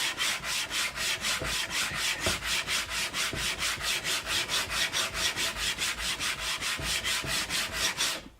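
Flame maple guitar neck sanded by hand, a fast, even back-and-forth rasp of roughly four strokes per second, close and steady throughout with no voices.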